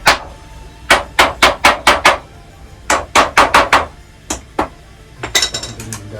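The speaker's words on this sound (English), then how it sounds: "What I do as well is just hammer the staples in." Staples are hammered into a Japanese bifold screen: sharp, close metallic strikes arrive in quick bursts of about five or six, with short pauses between groups and a lighter, irregular run of taps at the end.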